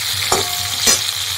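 Whole sugar and salt fry in oil with bay leaf in a pan over a hand-built clay stove, a continuous close sizzle punctuated by two quick spatula scrapes, with no talking.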